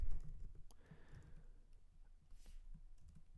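Quiet, rapid keyboard typing while entering Kotlin code on a computer, with soft irregular clicks in a steady stream and no talking.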